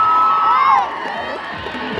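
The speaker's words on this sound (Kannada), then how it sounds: "ಅಭಿಮಾನಿಗಳಿಂದ ಕೇಕೆ ಚಪ್ಪಾಳೆ. ಒಂದ್ಸಲ ಜೋರ ಚಪ್ಪಾಳೆ." Fans at a women's kabaddi final match, Jai Mahakali Chinchali against Gujarat, raise a loud, sustained roar of cheering and whooping from a dense crowd, with shrill high shouts rising over the general din.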